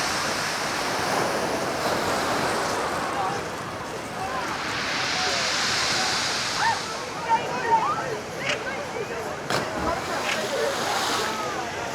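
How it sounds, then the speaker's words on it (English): Sea waves washing over a pebble beach at Brighton, heard from the pier as a broad hissing wash with rattling, crackling pebble drag, steady and moderately loud with wind in the background. "Listen to the waves on the pebbles."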